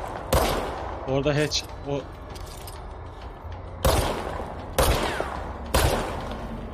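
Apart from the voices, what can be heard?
gunfire in a shooter video game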